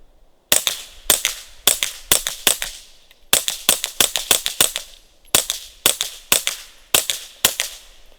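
Suppressed shots from a Ruger PC Carbine 9mm, sharp close cracks fired in quick groups of three to six with short pauses between, loud and alone with no talk.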